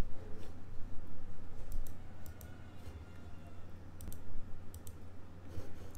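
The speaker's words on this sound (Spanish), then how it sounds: "Y aquí nada más le estoy dando clic para que vean cómo mover un poco." Computer mouse clicks on a Windows PC: sparse, sharp, faint single clicks, a few in quick pairs, spread over a low steady hum of background room noise.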